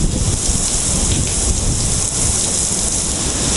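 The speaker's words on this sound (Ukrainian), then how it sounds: "Це шторм конкретний." Heavy rain pours steadily and loudly during a storm in Albania, a dense continuous roar with low thunder rumbling underneath throughout.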